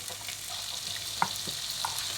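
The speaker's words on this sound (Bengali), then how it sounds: "পেঁয়াজটা ভালো করে ভেজে" Faint, steady sizzle of onion frying in oil with ginger and garlic, broken by a couple of soft clinks of a utensil.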